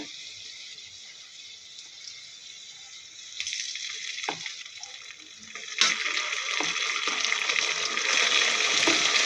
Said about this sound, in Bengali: আদা রসুনটা ভেজে নিব